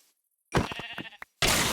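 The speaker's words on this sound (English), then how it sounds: "I see sheep." Sheep bleating in the video game Minecraft: a single close, loud bleat with a short follow-up, then a burst of broadband game noise.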